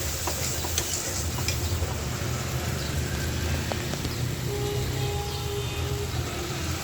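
A ginger-based spice paste frying in a pan for a cauliflower and potato curry, with a continuous close sizzle and soft scraping of stirring throughout.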